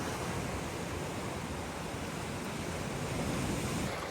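Ocean surf rolling in hard on a rising tide near a lighthouse coast, a loud, continuous broadband wash of breaking waves with wind buffeting the microphone, close and steady throughout with no speech.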